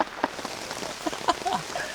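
Rain patters steadily on a hiking trail on the outskirts of Seoul, with scattered drops and splashes close by and a soft, continuous hiss underneath.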